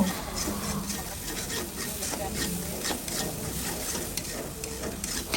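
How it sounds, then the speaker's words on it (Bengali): Ginger and garlic paste sizzles steadily in hot oil for a shrimp bhuna while a spoon stirs and scrapes it around the pan, making a continuous close hiss with soft rubbing sounds. "এখন এগুলোকে ভালোভাবে নেড়েচেড়ে মিশিয়ে নিব এবং কিছুক্ষণের জন্য কষিয়ে নেব"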